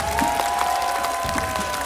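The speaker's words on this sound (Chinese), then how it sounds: "可以用你们的掌声来给他们最好的 respect 吗" A studio audience at a televised rap competition show claps in a brief burst of applause, over a faint steady musical tone.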